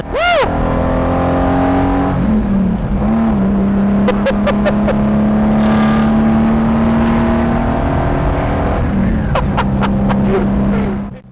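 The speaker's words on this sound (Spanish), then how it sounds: "Pero suena increíble. Es uno de los coches con mejor sonido que he llevado." A Lamborghini Jarama's engine drones loudly and steadily while driving, with a rising rev at the start and brief shifts and revs around the middle and near the end.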